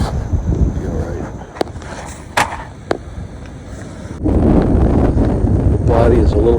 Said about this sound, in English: The wind's still blowing a steady 10 miles an hour